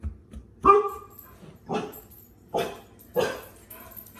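A dog barks four times at spaced intervals, each bark sharp and fairly close, with a quiet background between them.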